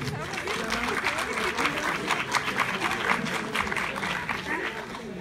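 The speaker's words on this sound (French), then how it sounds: "Alors on applaudit." Audience applause at the live Miss Afrique 2019 show, a dense, steady wash of clapping that stays loud for the whole stretch, with crowd voices mixed in.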